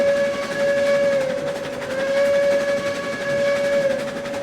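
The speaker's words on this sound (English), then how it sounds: "There, the whistle comes out pretty nice." A steam locomotive whistle blows in the railroad game RailRoads Online. One long, sustained, clear tone dips briefly in pitch a couple of times and sounds alone over a soft background hiss.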